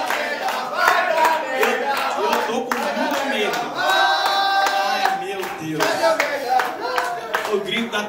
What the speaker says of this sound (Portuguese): O grito da torcida